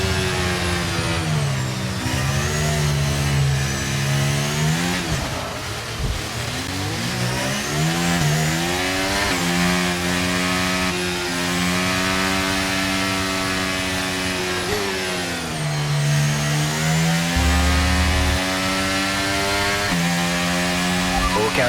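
A race car engine warms up on a formation lap in a Saudi Arabian Grand Prix racing game, loud and close, revving up and down through the gears with shifting pitch sweeps and a brief low rumble near the end.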